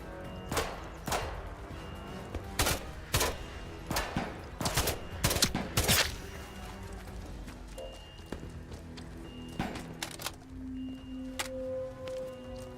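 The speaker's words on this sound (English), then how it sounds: "I'm shooting." Scattered gunshots in the video game Atomfall, a dozen or so sharp cracks in irregular bursts, some close and loud, others fainter, over a low ambient game background with a brief tonal hum near the end.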